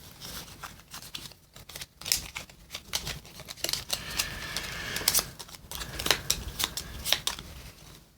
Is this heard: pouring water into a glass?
no